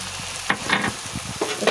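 Mutton and papaya stir-frying in a pan with chilli powder, a steady sizzle broken by several scraping stirs of the spatula, close and fairly loud, with no voices.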